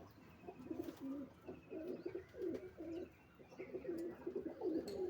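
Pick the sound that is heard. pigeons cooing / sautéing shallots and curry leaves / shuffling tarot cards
pigeons cooing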